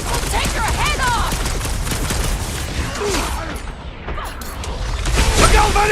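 Nova cannons fire in rapid bursts during a Guardians of the Galaxy video game battle, loud booming volleys and mechanical clatter crowding the whole stretch while characters shout over the gunfire.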